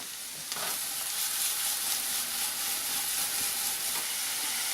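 Minced garlic sizzles in a hot pan as a steady, bright frying hiss. A few soft clicks of stirring come through, and there is no talking.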